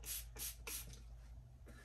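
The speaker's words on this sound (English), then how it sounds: "And so you spray it on," Three quick bursts of Life After Death bowling ball cleaner spraying from a pump bottle, each a sharp hiss close by, followed by a quieter trailing spritz, with no talking.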